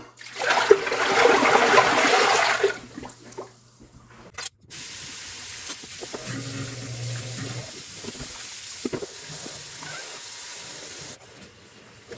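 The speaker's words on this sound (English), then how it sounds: "let me dump this muddy pan out and I'll finish up" A muddy gold pan of water is dumped out, making a loud splashing gush that lasts a couple of seconds, then quieter trickling and handling noises follow.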